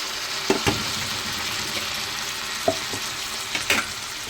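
Tomato pieces frying in a pan with beans for a beans tomato curry, a steady close sizzle with a few sharp clinks and stirring knocks scattered through it.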